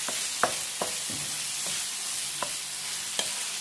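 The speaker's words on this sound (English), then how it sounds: "So you fry." Food frying in a pan during Romanian home cooking, with a steady background sizzle broken by several sharp clicks and scrapes of stirring, evenly spaced and close by.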